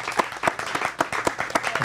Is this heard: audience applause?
yes